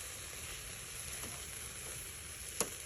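Marinated pork chop grilling for a Filipino barbecue dinner, a faint, continuous hiss and crackle of sizzling fat with a few small pops and one sharp tick near the end.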